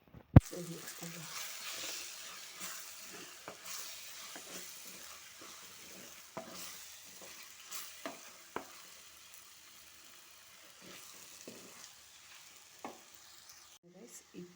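Masala for a mushroom gravy being stirred and fried in a pan, with a steady soft sizzle and repeated scraping clinks of the spoon running throughout.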